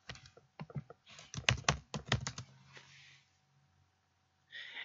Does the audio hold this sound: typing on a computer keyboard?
yes